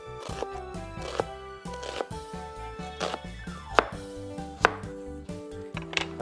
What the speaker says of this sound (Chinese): 好啦，到最後就切洋葱。